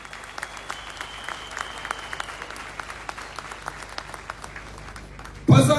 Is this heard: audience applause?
yes